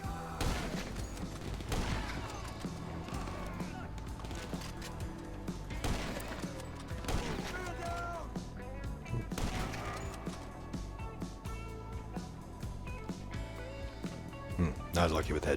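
Repeated gunfire in GTA Online, sharp shots and crashing impacts scattered through the stretch, mixed with game clutter and heard under near-constant talk from a player.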